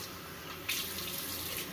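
Water runs from a tap into a sink during shaving prep, a steady broadband hiss that swells louder partway through and keeps flowing to the end, close and alone with no talk.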